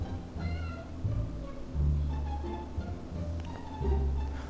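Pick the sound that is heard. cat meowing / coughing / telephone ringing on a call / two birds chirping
cat meowing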